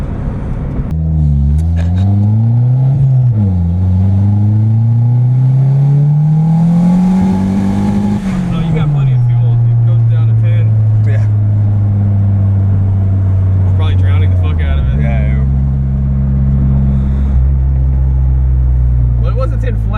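Turbocharged D16 engine in a Suzuki Vitara pulling hard under boost, loud and close, its tone climbing through several rising sweeps with gear changes and settling into a steady drone, with voices talking over it.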